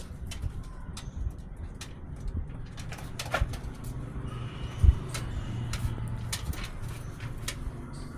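Pigeons of a teddy breed, kept as a breeding pair, cooing softly with occasional sharp clicks, wing flutters and rustles, and one louder thump midway.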